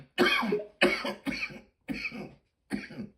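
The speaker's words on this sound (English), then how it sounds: "You can hear me coughing, can you?" A person coughs several times in short separate bursts, close to the listener, with brief pauses between them.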